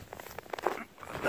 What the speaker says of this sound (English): hoodie zips up to my nose, so that helps too